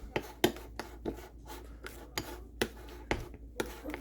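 A thick, frosting-like paste is mixed in a bowl for Parmesan chicken, giving soft rhythmic scraping strokes, roughly two per second, close and fairly quiet.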